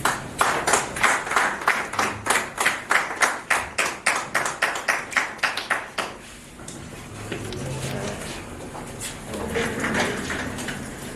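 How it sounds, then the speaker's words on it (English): A small media gathering welcomes new Mamelodi Sundowns head coach Miguel Cardoso with about six seconds of close, rhythmic clapping. Then it gives way to a low murmur of room chatter. "Can we please give him a round of applause?"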